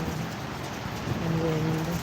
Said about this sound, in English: The sound of the highway, the sound of the rain